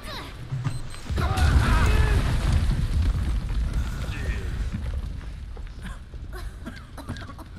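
A bomb goes off in Final Fantasy VII Remake: a loud, deep, rumbling blast bursts out and slowly fades over several seconds, with voices heard alongside.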